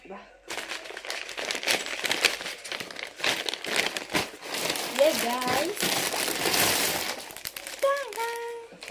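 A plastic Amazon delivery package being torn open and handled, crinkling and rustling steadily at close range while a person talks throughout.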